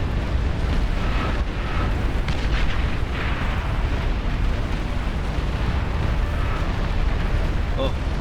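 Dense, continuous rumbling explosions and artillery-like bursts fill a battle in the real-time strategy game Beyond All Reason as a commander unit is destroyed, loud and unbroken throughout.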